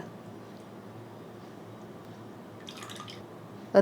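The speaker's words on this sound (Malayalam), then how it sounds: "ഇനി ഇതിലോട്ട് ഒന്നാം പാൽ ചേർത്ത് കൊടുക്കണം ഒന്നര കപ്പ് ഒന്നാം പാൽ" Thick first-pressed coconut milk, about one and a half cups, goes into a pot of green gram payasam, a wet dripping, splashing sound over steady low background noise, with a brief brighter splash near the end.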